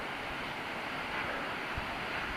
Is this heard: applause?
no